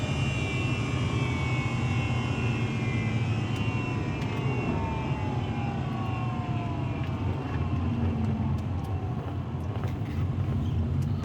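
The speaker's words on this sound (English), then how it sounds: "Start slowing down, you'll hear the noise slow down." Inside a Subaru Outback slowing down, a bad driveline bearing gives a loud continuous droning whine that gradually falls in pitch as speed drops, under steady road noise.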